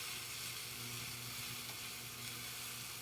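Tofu scramble with onions hisses faintly in a frying pan, a soft, even sizzle that holds steady throughout with occasional light stirring.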